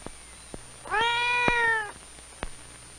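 A single drawn-out cat meow, clear and close, heard alone with a few faint clicks around it; a five-week-old kitten in a basement litter.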